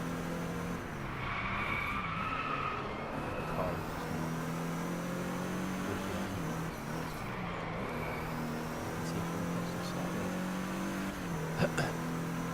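Driveclub racing gameplay: a steady, loud car engine drones and shifts pitch throughout, with tire skids and a brief impact near the end, while a voice talks faintly underneath.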